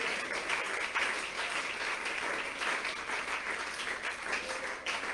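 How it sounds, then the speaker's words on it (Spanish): Steady applause from a church congregation fills the room, dense and sustained throughout with no break, many hands clapping at once. "Dele un aplauso al Rey si quiere, hermano querido, esta mañana."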